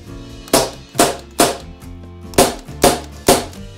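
Seven sharp shots from an ASG Steyr Mannlicher M9 A1 gas blowback airsoft pistol, popping at a steady, unhurried pace, each a crisp crack with a short metallic ring, close and loud with nothing else between.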